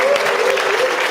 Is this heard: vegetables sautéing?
no